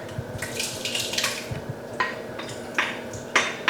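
A tomato mixture is poured and scraped from a container into a chili pot, with clanks of metal against cookware and wet, sloppy plops spread across a few seconds at moderate volume.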